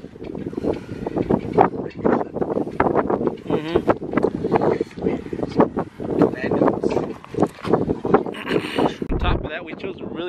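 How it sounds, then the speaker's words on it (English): Strong wind blows outdoors on Antelope Island on a snowy day, gusting and buffeting the microphone as a steady rough roar beneath continuous talking. "It's like really windy and snowing."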